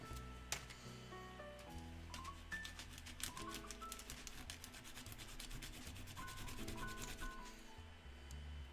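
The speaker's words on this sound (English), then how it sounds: "I'm giving a little bit of a sanding because it's just slightly too big now." Quick, rapid rasping strokes of sanding on a small piece, continuous and soft, with faint tonal background hum.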